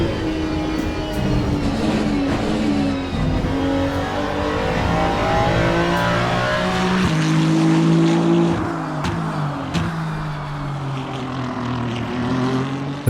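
A GT3 race car in Le Mans Ultimate roars through its gears, the engine note climbing and dropping with shifts and a steady droning rumble of tires underneath, loud and continuous with no talking.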